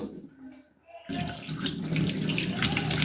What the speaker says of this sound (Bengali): পরিষ্কার করে ধুয়ে নিতে আসছি